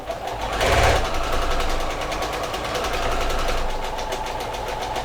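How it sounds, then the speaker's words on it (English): A sewing machine stitches straight across a torn belt loop, a loud close, fast steady mechanical whir and needle chatter that surges briefly near the start and then runs on evenly. "I'm going to start on one side of the tear and I'm going to stitch right across."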